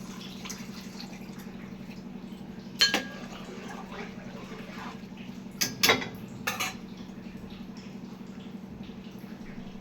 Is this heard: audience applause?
no